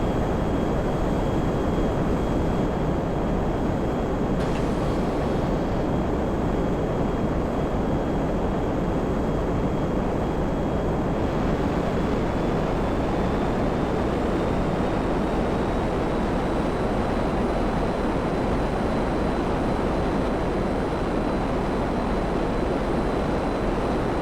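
Dassault Rafale jet in GTA V pulling a loop with landing gear down, a steady loud roaring engine wash with a faint high whine that rises slightly in pitch late on, continuous and unbroken throughout.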